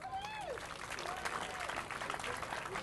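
Applause from the audience at a celebrity softball game, a steady patter of hand claps spread through the crowd for nearly three seconds, with a voice talking over it.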